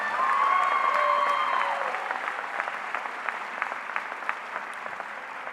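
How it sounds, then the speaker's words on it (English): Audience applause at a middle school promotion ceremony for a robotics team, a dense steady clatter of many clapping hands that starts loud and thins out toward the end. "give them a round of applause"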